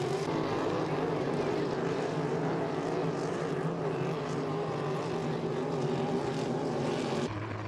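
H350-class hydroplane racing boats roar steadily at a distance during a qualifying heat at Beauharnois, a continuous droning engine wash that holds for several seconds before easing slightly near the end.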